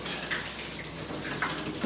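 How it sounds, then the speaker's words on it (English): A garden hose pours water into a leaky boat hull, a steady close rushing and splashing with small drips and spatters over it, with no voices. "Will you put the hose in the boat? Okay, we got water going into the boat."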